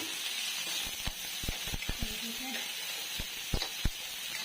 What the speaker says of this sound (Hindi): यहाँ पे तेल गरम हो चुका है और मैं डालूंगी प्याज। प्याज को थोड़ा फ्राई कर लेती हूँ